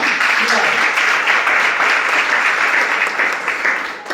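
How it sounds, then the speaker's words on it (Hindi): A congregation at a Sunday service at Christ's Church Balangir claps loudly in praise, a dense, steady wash of applause held for several seconds before tapering slightly. "तालियों के साथ परमेश्वर को"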